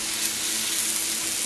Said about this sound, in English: Let's check on these and see. They're starting to sizzle a little.